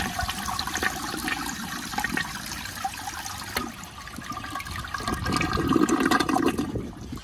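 A 1978 Eljer toilet with badly rusted tank bolts flushes with a rushing swirl of water and a weak gurgle that swells toward the end, heard up close and without talk.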